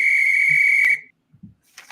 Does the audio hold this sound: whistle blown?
yes